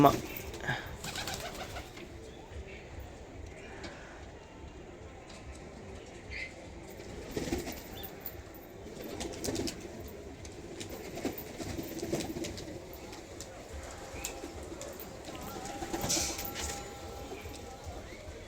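Pet pigeons, among them a green gola pigeon wearing a leg band, cooing softly with occasional wing flaps and light shuffling, moderately near and faint, with a voice talking at times.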